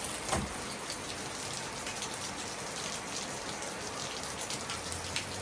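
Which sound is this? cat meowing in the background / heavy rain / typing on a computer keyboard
heavy rain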